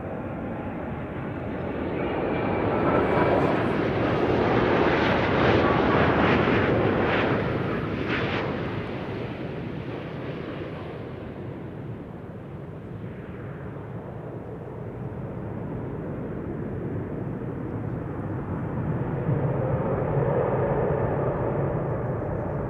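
An IndiGo airliner lands at Amsterdam Schiphol with thrust reversers deployed, a loud, broad rushing roar that swells around the middle, fades as the jet slows, then rises again slightly near the end.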